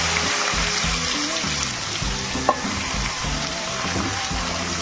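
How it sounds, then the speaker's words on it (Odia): Onions frying in hot oil in a pan for an Odia-style fish masala, a continuous dense sizzle with soft stirring scrapes and one brief clink partway through. "ଏବେ ପିଆଜ ସବୁ କେମିତି ବଢ଼ିଆ ସେ ଭାଜି ହେଇଗଲାଣି"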